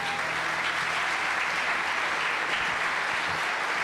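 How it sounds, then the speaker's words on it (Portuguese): A church congregation applauds during a sermon, a continuous, even clatter of many hands clapping together at steady volume for the whole stretch. "Pode aplaudir."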